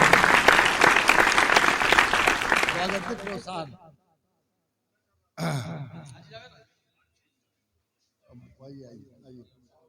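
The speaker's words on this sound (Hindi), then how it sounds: "तालियां बजाकर हमारे गजेंद्र सिंह जी का अभिनंदन करें" A mushaira audience at an Independence Day honoring ceremony in Khatauli, Muzaffarnagar, claps to welcome Gajendra Singh, a loud burst of applause that fades out within four seconds, followed by brief bits of talk and a quieter scattered patter.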